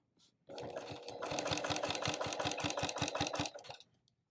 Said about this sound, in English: we're just gonna stitch right on by